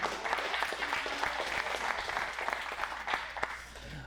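At a real estate seminar, a room full of attendees breaks into applause for newcomers. Many hands clap in a dense, moderately loud burst that stays steady for about four seconds.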